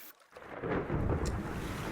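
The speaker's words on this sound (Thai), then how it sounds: "ท้องฟ้า ฝนตกลมแรงน่ากลัว คลื่นลมมันได้เข้ามายังมหาสมุทรแห่งนี้และกำลังพัดมา" A rainstorm with strong wind rages over the ocean around a lighthouse in the video game Diluvian Winds, heard as a low rumbling roar with a steady wash of rain that swells after a brief quiet start.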